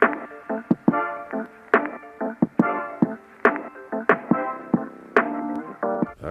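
A short musical loop on an Akai MPC with muffled, band-limited tones and rhythmic percussive hits, EQ cutting the highs and lows so it sounds thin and boxy.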